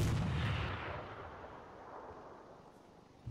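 A demolition charge goes off in the ArmA 3 video game as one loud, close blast that rolls into a long, fading rumble and debris wash lasting several seconds.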